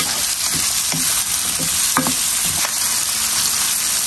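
Saba bananas frying and being stirred into a pan of curry, a steady sizzle with a few soft scraping stirs of a utensil, close and alone without talk.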